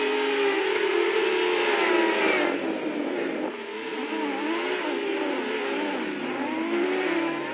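Several race cars in a racing video game launching at the race start, engines revving and rising in pitch together, a loud continuous whine that shifts as the cars accelerate.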